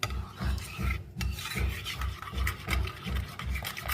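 Spoon scraping and stirring cocktail sauce mixed with sugar in a bowl, a steady rhythmic rasping that repeats about twice a second, close and fairly quiet, with no talking.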